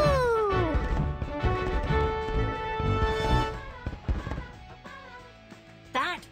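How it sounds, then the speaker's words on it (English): Fireworks launch and burst in a Team Umizoomi video game, with whistling rising tones, cartoon crashes and bright musical effects tumbling together loudly over several seconds, no voices heard over them. "That was a spectacular fireworks show."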